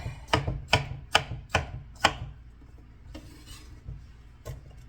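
A knife chops on a cutting board in quick, evenly spaced strokes, about six sharp knocks close by, then a few softer scrapes and one last chop.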